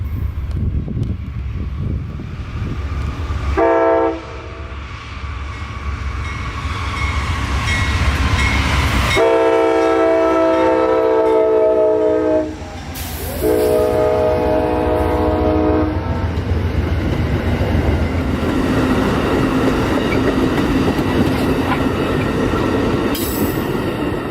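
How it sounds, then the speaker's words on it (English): An Amtrak train with a Phase 3 Heritage locomotive, number 822, in second position rolls loudly past near Lakeland, Florida, sounding several long horn blasts over the steady rumble and clatter of the railcars. "Today's PO 97 had one of Amtrak's Phase 3 paint scheme Heritage locomotives number 822 in the second position."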